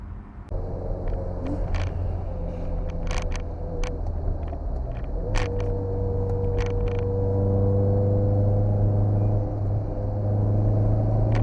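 A Toyota MR2 engine drones steadily inside the car on the Donington race track, a loud sustained in-cabin roar with shifting pitch as the revs change, plus occasional clicks and knocks, no talking.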